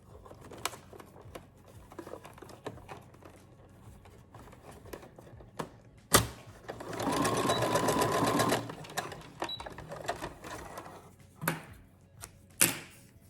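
A sewing machine stitches a fabric face mask in a steady close whir for about two seconds, with scattered clicks and taps of handling before and after, no talk.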